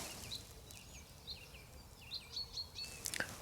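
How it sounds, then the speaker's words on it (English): Birds sing on a damp morning in the countryside. Faint, repeated high chirps and short whistled calls come from a distance over quiet ambient noise, with a brief rustle near the end. "I don't know if the microphone's picking up the woodpecker or the pheasant, but the bird sound this morning,"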